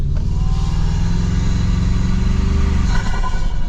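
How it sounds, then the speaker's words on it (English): A 2025 Toyota Tacoma Trailhunter's turbocharged four-cylinder engine drones loudly and revs close by, with a brief airy turbo blow-off release near the end. "turbo blow off noise definitely helps out with this engine"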